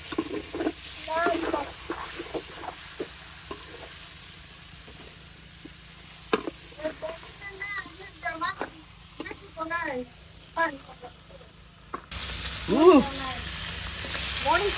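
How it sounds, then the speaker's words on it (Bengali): Fish frying in a pan on a home stove, a soft continuous sizzle heard close throughout, mostly under the chatter of an adult and someone talking nearby. "মাছ ভাজি করতেছে"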